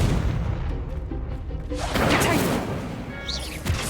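A Confringo blast spell explodes in Hogwarts Legacy gameplay with a loud, booming crash that swells into a roaring burst amid dense combat effects, with a short bright flourish near the end.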